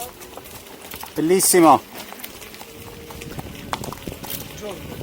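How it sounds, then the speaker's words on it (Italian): Horses passing on a road in the Castelli Romani hills, hooves clip-clopping softly and irregularly under a brief burst of wind or motion noise, with a person speaking. "Addirittura abbiamo incrociato dei cavalli."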